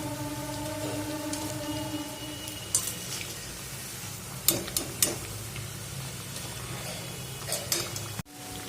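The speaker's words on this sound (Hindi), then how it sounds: "इसे हमें इतना ही फ्राई करना है।" Besan kharora fries in hot oil, giving a steady, soft, close sizzle. A few sharp pops and clicks break through, and the sizzle stops abruptly near the end.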